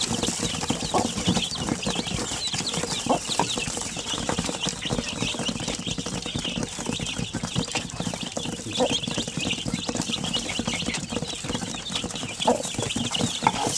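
A hen with her chicks clucks and peeps around a feeding coop, the birds close and busy over steady rustling and scratching at feed, with continuous dense activity and no clear talk.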